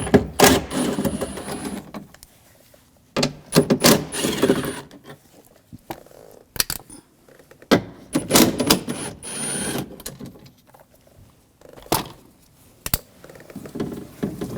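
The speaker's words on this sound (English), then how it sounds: "Using a 10mm socket, take these nuts off." A 10mm socket ratchets nuts off the rear power window regulator of a 2007-2013 BMW 328i, giving close, loud bursts of clicking and rattling metal with short pauses between them.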